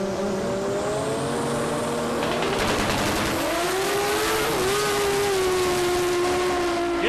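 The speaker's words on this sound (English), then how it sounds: "You'll hear the popping out of that 20B for Aaron Strong" A turbocharged 20B rotary engine on an outlaw drag car roars loudly at Palmyra Dragway. Its steady, buzzing pitch rises and bends as the car comes up on boost, with no voices over it.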